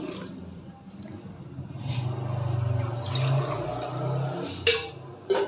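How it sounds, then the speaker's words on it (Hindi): About a litre of water poured into a pressure cooker in a home kitchen, a gurgling, splashing fill that swells and fades over a few seconds, followed by brief clatters of the pot. "एक लीटर में इसमें पानी डाल दूँगी।"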